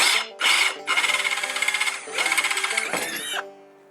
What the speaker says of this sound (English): we're going to take our drill and just drill a clearance hole right here